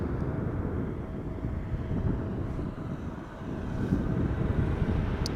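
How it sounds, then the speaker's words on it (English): A Vueling Airbus A319 departing Schiphol Airport, a broad, distant engine roar that rumbles steadily and swells slightly toward the end, with some wind noise and no voices. "there she goes. Vueling flight 6815 outbound to Florence, Firenze. A319."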